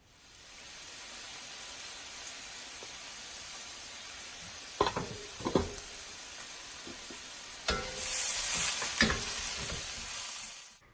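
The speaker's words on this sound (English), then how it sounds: "we will add 1 cut onion to the oil. Then we will add green chilies" Cut onion and green chilies drop into hot oil already spluttering with cumin seeds, a steady close sizzle punctuated by a few sharp additions, then a louder hissing surge of frying toward the end, with no voices.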